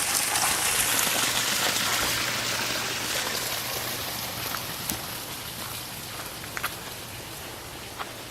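Pumped pond water rolls back down into the pond in a steady, close rushing wash, like heavy rain on a surface, with a few brief splashes and no voices.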